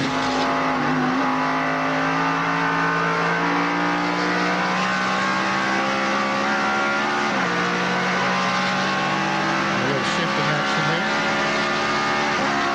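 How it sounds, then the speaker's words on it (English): NASCAR stock car with a straight-cut gear transmission at Watkins Glen in 1995, engine note loud and continuous for the whole stretch, pitch stepping down through downshifts, with a harmonic-rich roar. "they'll brake with their left foot and not even use the clutch on a downshift like that"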